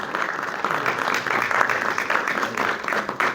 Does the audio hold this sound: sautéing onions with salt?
no